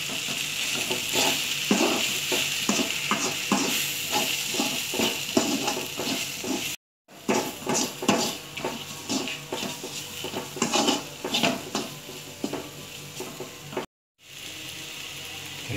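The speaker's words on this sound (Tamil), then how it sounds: "ஸோ இப்போ நம்ம இதை வந்து நல்லா கிளறி விட்டுக்கலாம்." Masala and coriander powder being stirred into radish sambar in a pan, a spoon scraping and clinking steadily against the metal over a low sizzle, with two short gaps.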